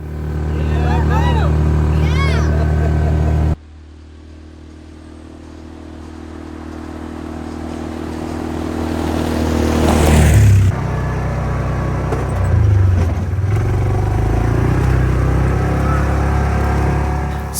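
A worn-out Yamaha Rhino UTV on a fall trail ride, its engine droning low and steady with rising and falling revs and rattling clatter, while people talk over it.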